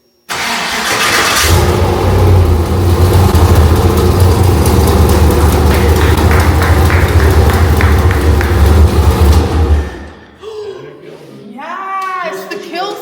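A project car nicknamed Nessie cranks and fires, its engine running loud and steady for several seconds before being cut off abruptly, leaving quieter clatter and voices talking afterward.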